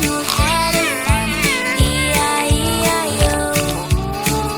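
A cat meows repeatedly within a children's farm-animal song, each call rising and falling over steady musical backing and a rhythmic bass beat, loud and close.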